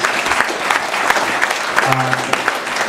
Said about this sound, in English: So give them a nice round of applause, please